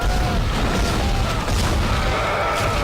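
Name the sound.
gunfire in the Dead Space video game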